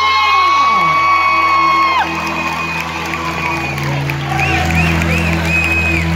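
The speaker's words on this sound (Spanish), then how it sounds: "la recibimos con aplauso" A concert crowd at a show whoops, cheers and claps as the singer comes on stage, loud cheering and high shouts over a held musical backing that drops midway, then more whoops follow.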